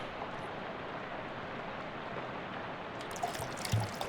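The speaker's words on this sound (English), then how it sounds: "Faucet open. Collect the gas." Gasoline pours from a faucet into a gas can in a video game, a steady close rushing stream that holds level throughout, with a few small knocks near the end.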